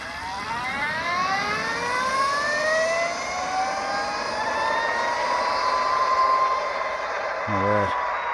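A 2021 Energica Eva Ribelle electric motorcycle whizzes past up close, its rising and falling motor whine sweeping smoothly through the pass like a jet, steady and loud against wind and road noise, ending with a brief low thump.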